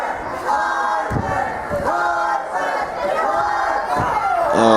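A Pro Wrestling Ulster crowd chants and cheers during a live match, loud rhythmic pulses of massed voices rising and falling in repeated waves close to the microphone.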